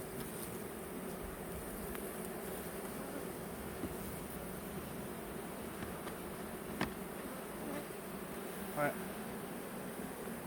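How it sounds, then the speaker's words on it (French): A steady, dense buzzing of many agitated bees around a hive fills the air, low and continuous, with a few brief clicks and a faint voice in the background. "Tout ça c'est des abeilles."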